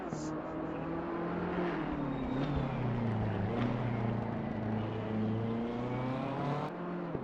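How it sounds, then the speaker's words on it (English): BMW M4 GT3 race car engine in Assetto Corsa Competizione, a deep, steady roar held near and loud throughout, with the pitch swelling and easing slightly as it revs, and no voices. "Sounds just like how a BMW is supposed to sound."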